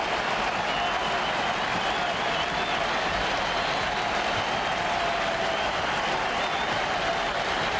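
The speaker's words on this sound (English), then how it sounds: "this sellout crowd gets to its feet" A sellout baseball stadium crowd at a World Series game between the Mets and Yankees rises and cheers, a dense, continuous roar of applause and crowd noise that holds steady throughout.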